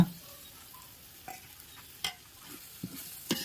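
Yogurt being stirred into beef nalli biryani masala in a pot, heard as a few soft scraping strokes over a quiet sizzle, with no voices.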